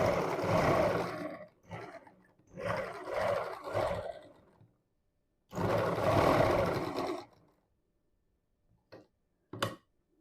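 Sewing machine stitching a prince-cut blouse, with several loud buzzing bursts of running stitches separated by pauses and a few short ticks near the end, close by.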